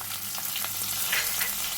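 Garlic, onion and chili sizzle steadily in hot oil for a bitter gourd stir fry, a continuous close crackle with light stirring clicks and brief bursts of spitting.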